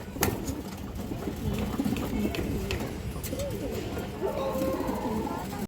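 Pigeons coo softly in low, rolling murmurs, several birds overlapping against a steady background hum, close by, at a pigeon sale.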